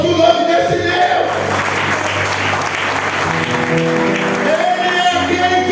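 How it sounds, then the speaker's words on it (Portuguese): A church congregation applauds, a loud, sustained burst of clapping from many hands filling the room, with low sustained organ or keyboard tones underneath. "Você pode aplaudir o nome desse Deus."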